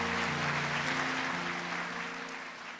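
A church congregation gives a round of applause for a pastor, a steady wash of clapping at moderate distance that slowly fades toward the end.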